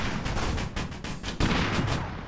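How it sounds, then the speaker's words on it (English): Auto cannon fire in the vehicle combat game Busted Metal, a rapid string of loud, punchy shots in quick succession with no pause, close and dominant. "now we've got auto cannon"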